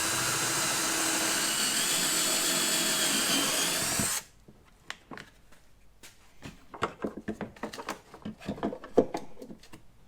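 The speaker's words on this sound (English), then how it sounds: "we'll drill a hole through there and cable tie it through." A power drill whirs steadily and loudly for about four seconds while drilling a hole through plastic moulding, then stops, followed by a series of sharp clicks and small knocks.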